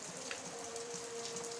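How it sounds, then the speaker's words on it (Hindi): Steady rain falls continuously outdoors around a poultry shelter, a dense even hiss of drops on surfaces with a faint constant hum beneath, no voices. "ये देखिए बारिश मुसलसल कल से हो रही है"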